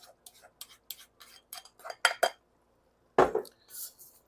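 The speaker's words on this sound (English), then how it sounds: "Mix the onions into the frying ground beef, making sure to get the onions all good and coated with the rendered fat from the ground beef." A utensil scrapes and clinks against a pan while ground beef and onions are stirred together in rendered fat, giving irregular clattering strokes with short pauses and one louder burst near the end.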